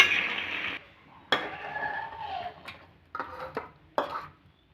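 A pot of fish, potato and bean curry lifted off a stove, with metallic clinks and scrapes of the pot and utensils, a few sharp knocks spaced over a few seconds, close and fairly quiet.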